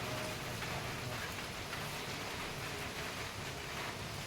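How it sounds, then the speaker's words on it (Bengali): Steady rain falls on a morning outdoors, a dense, even hiss with soft patter that holds at a constant level throughout, with no voices. "আর বৃষ্টি পড়ছে"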